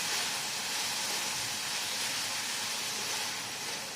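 Coriander and green chilies frying in hot oil for a capsicum sabzi, a steady loud sizzling hiss that runs unbroken throughout, with no voices.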